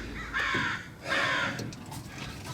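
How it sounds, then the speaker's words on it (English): Crows cawing loudly in two strong bursts close by, harsh calls repeating over faint outdoor background near a 1980 Ford F-350 service truck being worked on. "Apparently the crows want to be the star of the YouTube here."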